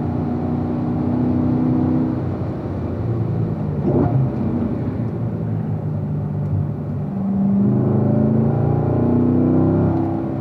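A car with a grand fork setup powers out of a corner at full throttle, its engine a steady loud rumbling roar that swells again toward the end as it pulls hard.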